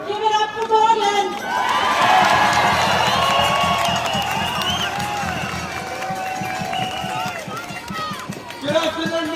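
A large outdoor crowd at a Melbourne demonstration cheers, whoops and applauds for a speaker, a dense, sustained roar of voices and clapping that swells, holds for several seconds, then fades as a voice comes through over amplified sound.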